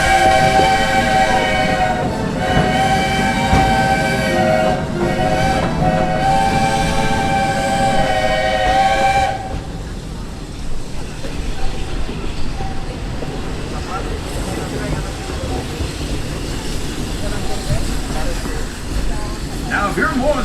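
Walt Disney World Railroad train running, with a sustained tonal whistle or horn blowing for several seconds before giving way to rumbling, clattering rail noise, with voices mixed in.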